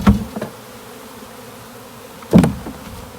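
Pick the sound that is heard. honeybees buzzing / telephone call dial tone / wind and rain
honeybees buzzing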